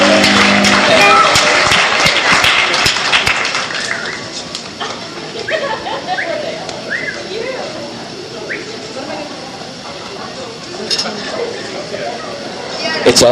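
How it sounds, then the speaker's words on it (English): Applause and cheering from guests at a bar mitzvah party, loud clapping and crowd noise at first that fades into lighter scattered clapping, chatter and a few whoops. "let's give them a nice round of applause"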